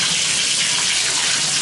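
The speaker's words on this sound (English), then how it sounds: "we'll turn on the shower and see how that works" Shower in an apartment bathroom blasting out with strong pressure, hot water only, a loud, steady broadband hiss of spray that runs unbroken throughout.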